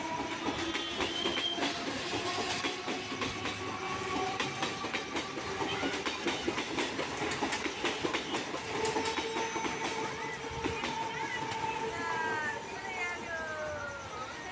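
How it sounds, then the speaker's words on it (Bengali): A train pulls out of a station with a steady rumble and clatter of wheels, faint metallic squeals rising above it, and voices murmuring in the background throughout. "এই ট্রেনটা বেরিয়ে গেল, এবার আসছে আমাদের যাওয়ার জন্য ট্রেনটা।"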